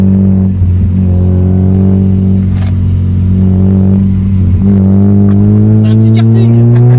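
A modified Mazda MX-5 engine pulls hard under acceleration, its steady loud drone climbing in pitch with a brief dip at a gear change, while a person talks over the engine.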